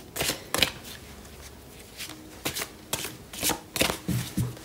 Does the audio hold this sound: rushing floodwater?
no